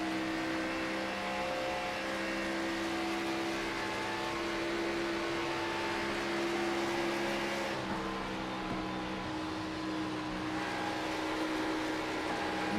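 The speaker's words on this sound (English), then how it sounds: "Listening to that engine of Greg Wellen just being very safe on the throttles" Race car engine during an NRE Cup Series race at California Dreamin 300, humming at a steady, restrained throttle with a continuous drone, heard up close with no voices over it.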